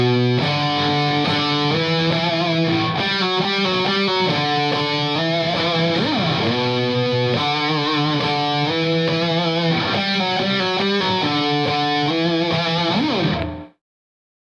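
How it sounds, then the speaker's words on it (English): Heavily distorted electric guitar playing a riff as single root notes instead of power chords, loud and sustained with slow bends, alone with no talking, cutting off abruptly at the end. "he switches from playing this riff in power chords to just playing it in single notes"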